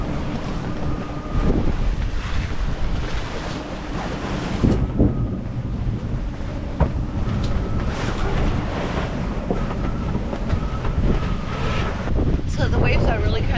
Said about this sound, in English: There are more waves than we thought. It's a little bit of a rough ride here.